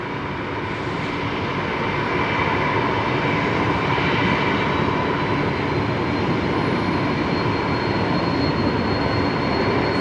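A jet at Brisbane Airport roars on takeoff, a loud, sustained broadband engine rumble holding steady across the whole stretch with no voices.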